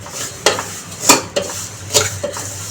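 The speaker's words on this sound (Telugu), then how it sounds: "అదే నెయ్యిలో మనం కొంచెం సేమియాని ఇలా వేయించుకోవాలి బ్రౌన్ కలర్లోకి వచ్చే వరకు" Vermicelli frying in ghee, a soft sizzle with four or five loud scraping strokes of a spatula against the pan as it is stirred, close and clear, with no voices.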